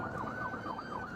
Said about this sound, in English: The afternoon traffic was heavy as sirens echoed across the highway